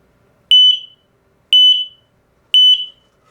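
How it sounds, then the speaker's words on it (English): X-Sense wireless interconnected smoke and carbon monoxide alarms sound together, three loud, piercing electronic beeps evenly spaced about a second apart with near silence between them. "you're going to long press one of the test buttons on any of the alarms that you have, and then all the alarms should signal at the same time"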